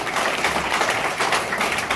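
Steady, continuous applause from a seminar crowd at a motivational training event in Nepal fills the whole moment, a dense wash of many hands clapping at once.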